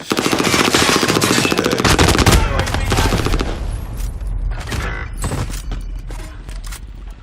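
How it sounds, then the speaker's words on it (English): Sustained automatic fire from a machine gun in the video game Warzone, rapid loud bursts rattling for several seconds, then tapering into scattered shots and mechanical clicks. "It's a machine gun."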